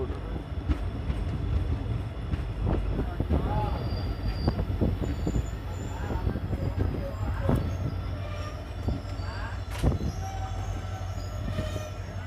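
A diesel-hauled passenger train on the Malda to Balurghat run rumbles along steadily with rhythmic wheel clatter and occasional squeals, plus a brief louder burst near the end.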